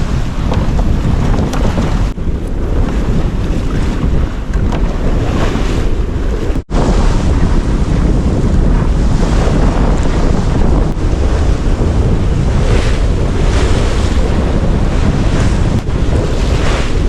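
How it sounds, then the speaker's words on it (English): Strong wind buffets the microphone on a sailboat off Cross Island, Nova Scotia, over a continuous loud wash of waves against the hull, with no letup for the whole stretch. "has the wind picked up maybe?"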